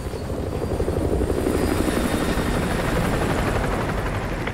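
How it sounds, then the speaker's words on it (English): Enemy helicopter patrolling overhead in Call of Duty Modern Warfare 2 Remastered, a steady loud rotor thrum and engine whine holding evenly throughout, with no talk. "Enemy helo patrolling the perimeter."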